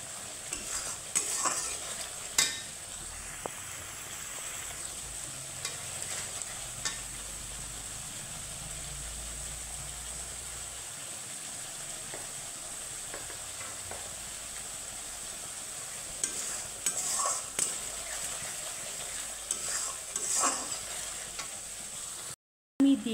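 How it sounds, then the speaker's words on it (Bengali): A spice masala with chilli powder fries in oil with a constant close sizzle, while scraping stirs recur throughout. A low rumble runs beneath for a stretch, then a brief dropout and a clatter come near the end. "ছাড়া অবধি এই মশলাটাকে কিন্তু আমার ভাজতে হবে বন্ধুরা"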